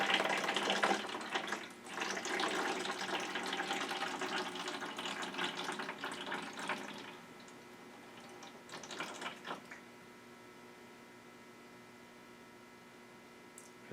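Coolant drains in a steady trickle from the radiator of a 2010 Yamaha YZ450 motorcycle, loud at first, then thinning to a faint drip and hum after about seven seconds, with no voices.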